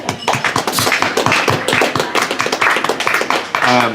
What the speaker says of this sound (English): I think we all owe Ben a round of applause.